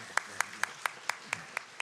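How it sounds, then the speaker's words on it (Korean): Evenly spaced hand claps, about four per second, steady and moderately close, like a small church congregation clapping a welcome in unison. "우리 환영의 박수 하도록 하겠습니다"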